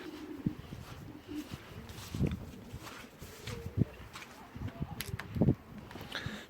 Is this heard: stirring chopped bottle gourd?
no